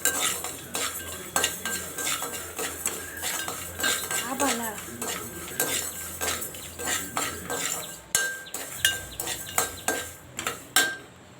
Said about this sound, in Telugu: ఓ బౌల్లో నువ్వులు పల్లీలు వేసుకొని కలుపుకోవాలి. కలపాలి బాగాసేపు.